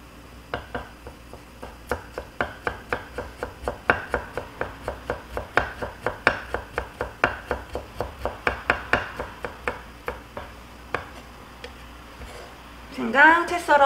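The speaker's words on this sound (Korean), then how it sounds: "생강 채 썰어 이렇게 물에 넣어 놓습니다" A kitchen knife slices ginger into thin threads on a cutting board, giving a steady run of about thirty quick, crisp chops at close range with no talk, followed by a brief clatter at the end.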